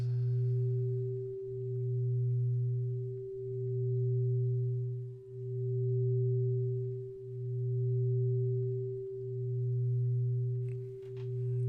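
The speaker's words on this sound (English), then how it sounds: "when one tone goes into my left ear while I'm wearing headphones, and another tone goes into my right ear while I'm wearing headphones" Steady pure binaural-style tones fill the passage alone, a low hum pulsing in slow, even swells about every two seconds beneath a fainter, higher sustained tone, with no voices.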